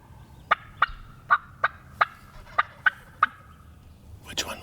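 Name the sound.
wild turkey calling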